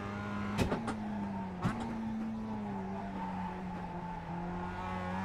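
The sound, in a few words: GT3 car drifting through a corner in the iRacing video game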